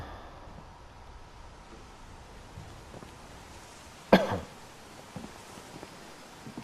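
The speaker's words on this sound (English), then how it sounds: "Sorry about the coughing." A single sharp cough from a sick player, close and abrupt, stands out against quiet background hiss, followed by a few faint small noises.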